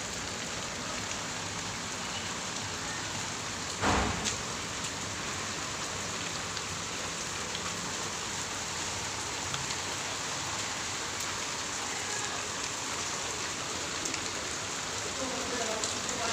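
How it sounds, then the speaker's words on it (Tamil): Heavy evening rain falls during a thunderstorm with lightning and wind, a loud, steady roar of drops on surfaces with one brief thump partway through, continuing unbroken with no speech over it. "பெரிய மழை ஆயிடுச்சு"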